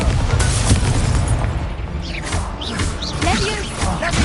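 Explosive spell blasts in the video game Hogwarts Legacy, heavy booming bursts and crashing debris rumbling loudly, with a player shouting over the action.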